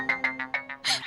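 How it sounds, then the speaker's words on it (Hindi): A short electronic phone ringtone chimes in quick repeating beeps, close and clear, cut off after about a second. "मीनू का फोन आ गया"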